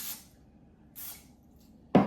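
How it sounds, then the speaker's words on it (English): Olive oil is sprayed onto chicken wings in an air fryer basket, with two short hissing spritzes about a second apart followed by a louder clack at the end. "I'm going to just spray it with a little olive oil, the chicken and everything, just like that."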